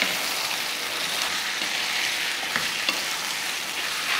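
Marinated chicken frying with sautéed onions, stirred in a pan: a steady, close sizzle with scraping stir strokes throughout, no talk.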